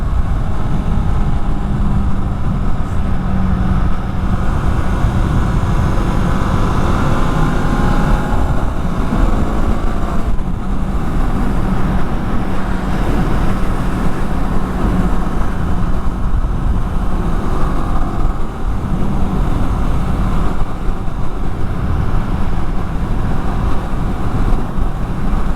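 Steady, loud engine drone and buffeting wind roar from a Kawasaki Eliminator 500 motorcycle being ridden, continuous and close throughout with no talking.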